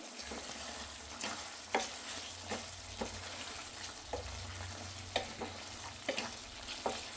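Mutton fry gravy with cumin powder and garam masala sizzles steadily in a pan while a spoon scrapes through it in repeated strokes about every second, close and fairly loud, with no talking.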